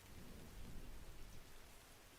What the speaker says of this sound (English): I hope you're enjoying the smooth sound of rain.